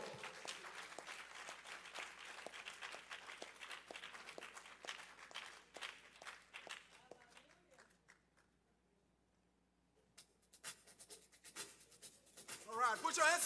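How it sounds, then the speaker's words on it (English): A worship congregation clapping hands, with steady rhythmic claps that thin out and drop away to near quiet before noise rises again, while voices are heard throughout. "Clap your hands one more time for the Lord."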